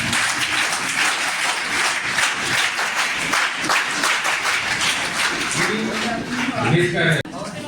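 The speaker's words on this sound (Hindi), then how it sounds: "आओ चलो बजाए 3 ताली" A group claps together at an orientation program in a steady run of loud, rhythmic hand claps, then voices and chatter rise toward the end.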